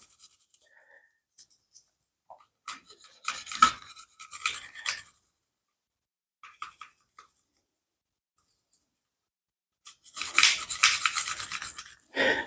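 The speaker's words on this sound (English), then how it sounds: "we're going to take our brush and we're going to go ahead and we're going to brush alongside everywhere that we just sprayed" A brush scrubs along a Walther PDP SF steel-frame pistol while its action is worked, giving short, scratchy rasping strokes broken by pauses, with a louder burst of brushing at the end.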